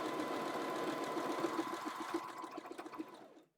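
A sewing machine stitching the hem of a simple tie-top, a close, steady rapid whirring hum that runs continuously, then slows into a few separate stitch beats before stopping.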